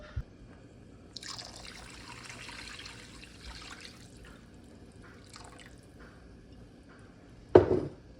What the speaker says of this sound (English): I'm gonna add in beef broth, tomato paste, beef bouillon, and then all of the broth that was made in the venison